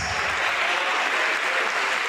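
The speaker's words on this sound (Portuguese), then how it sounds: "Vamos aplaudir mais" A congregation at a church service applauds steadily, a dense, continuous wash of clapping from many hands filling the room with little else heard.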